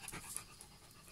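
Fluffy short-legged mixed-breed dog panting close by, a quick, faint run of breaths that continues through the whole short moment with no talking.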